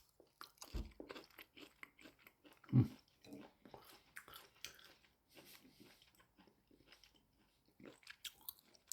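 Fried safou (African pear) being chewed close up, quiet irregular crunching and squishy bites spread through the clip, with one louder bite near the middle.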